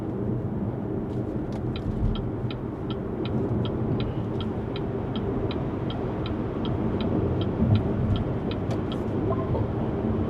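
A BYD Seal Premium 2024 electric car accelerating on a highway, giving a steady broadband road and wind roar throughout, with a faint regular electronic chime ticking over it and no talk.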